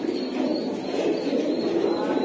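Pigeons coo softly nearby in a low, continuous murmur of overlapping calls.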